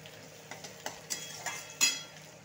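Onion with curry leaves, tomato and green chili fry in a pan, a faint soft sizzle broken by several light scrape-and-clink strokes of a spatula, ending in one sharper knock.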